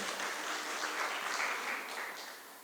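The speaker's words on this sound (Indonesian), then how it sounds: "Kasih tepuk tangan dong buat Bapak Ibu semua." Church congregation applauding during a Sunday worship service, a steady wash of many hands clapping throughout, moderately loud and fading slightly at the end, with no talk over it.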